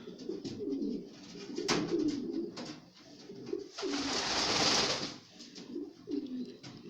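Pigeons coo in a loft, their soft, repeated low calls overlapping close by, with a rustle of wings or movement partway through.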